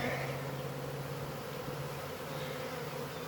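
A Carnica honeybee mating swarm returns to the hive in a bee yard, a dense, continuous buzzing of many bees all around, close and steady, with no talking.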